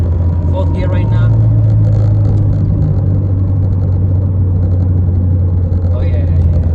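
A 2015 Ford Fiesta ST engine drones steadily in fifth gear while cruising on a highway, a constant loud hum with road rumble, and someone talks over it.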